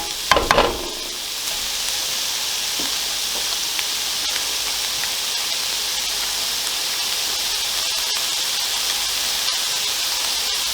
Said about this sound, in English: So the carrot's in there now, cook that for a further minute